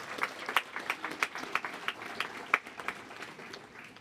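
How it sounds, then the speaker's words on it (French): Applause for the 121st train regiment at a commemoration of the 8 May 1945 victory, with a small outdoor crowd clapping in distinct, fairly sparse claps, moderately distant and soft. "j'aimerais qu'on puisse les applaudir pour leurs engagements"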